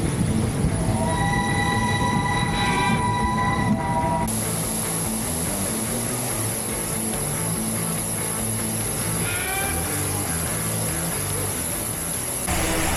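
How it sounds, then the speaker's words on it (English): Two steam locomotives at Chachoengsao Station in Thailand give a loud, continuous rail-yard rumble with metallic squeals and whistle-like tones, then a high steady hiss begins partway through. "If you can hear me with the steam train behind, two steam locomotives, they're quite noisy"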